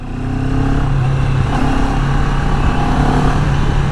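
A CF Moto 650 NK BS6 motorcycle engine idling at about 2000 RPM, a loud, close, steady low rumble that holds evenly throughout, with no talking over it.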